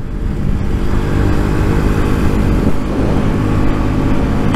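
A motorcycle with a Piaggio 125cc engine accelerates in a loud, continuous, rough drone from close by, its note climbing slightly, with no talk over it.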